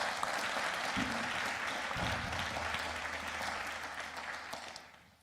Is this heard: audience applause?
yes